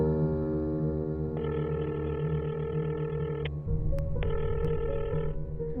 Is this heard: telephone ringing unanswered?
yes